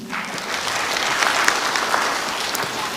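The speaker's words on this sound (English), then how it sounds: "Kindly clap for him." Audience applause at a correctional service week event session, a steady wash of many hands clapping at moderate volume that holds evenly for the full stretch with no voices over it.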